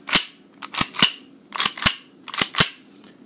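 Elite Force 1911 airsoft pistol fires six sharp, snappy shots in irregular pairs, close and loud with quick decay, no talking over them.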